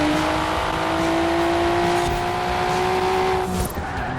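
Hard braking of a car in Forza Horizon 4 during a race, a steady loud engine drone with tire skidding and squeal running throughout, easing near the end with a brief shift.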